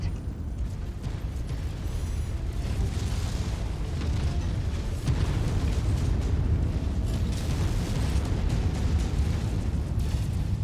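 A mech going critical and exploding in MechWarrior 5: heavy rumbling blasts and booming bursts build and roll on continuously, loud and close, with crackling debris throughout.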